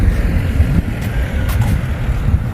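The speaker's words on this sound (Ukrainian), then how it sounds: "Дуже вітер. Вітрюган страшний." Strong wind buffets the microphone in a steady low roar, with gusts rising and falling throughout and no voices.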